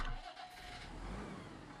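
A tractor engine rumbling and revving in Farming Simulator 19 (TLX9000 mod), a low steady motor drone that swells slightly and holds.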